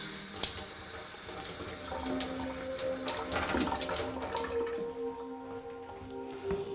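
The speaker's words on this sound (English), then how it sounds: "I'm going to run over here and rinse this one off really quickly." Tap water runs into a kitchen sink as celery gets a quick rinse, a steady close gush with splashes and drips shifting under the stream.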